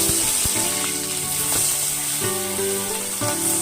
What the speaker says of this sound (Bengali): মাছ যে নুন হলুদ মাখিয়ে রেখেছিলাম এই মাছগুলো আমি ভেজে নেব